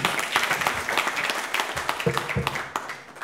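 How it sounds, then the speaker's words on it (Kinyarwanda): A church congregation bursts into loud, sustained applause for God, many hands clapping in a dense patter with a few louder claps standing out. "Kadukomere Imana yacu amashyi cyane."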